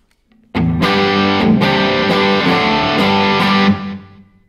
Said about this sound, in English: It's kind of a slap echo.